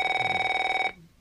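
A telephone bell rings in a scene from the comedy series Curb Your Enthusiasm, one steady metallic trill that stops abruptly.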